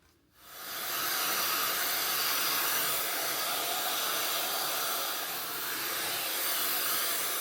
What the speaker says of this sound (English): I like to smooth as I blow dry.